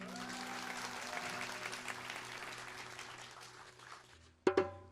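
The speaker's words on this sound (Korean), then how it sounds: "여러분의 큰 박수로" Audience applause at a Korean memorial concert, a broad wash of clapping that slowly fades before a few sharp knocks near the end.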